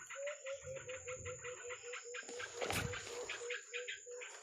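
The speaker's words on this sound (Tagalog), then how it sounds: "yung mga ibon parang iwan ko kung ano yung pahiwatig" Birds call outdoors, a steady repeated chirping pattern with a coo-like tone, faint and distant, with a brief rustling noise in the middle.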